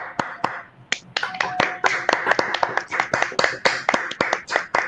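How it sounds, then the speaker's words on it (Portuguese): A small audience at a university biology department event for national science and researcher day gives a round of applause, crisp individual claps clearly separable and fairly close, quickly building into a steady, lively patter without voices. "E é para você que a gente deixa uma salva de palmas."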